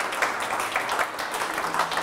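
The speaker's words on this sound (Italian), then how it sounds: "vi prego, un applauso al maestro" An audience gives steady, dense applause for the painter Franco Beraldo, a continuous patter of many hands clapping at moderate loudness with no voices over it.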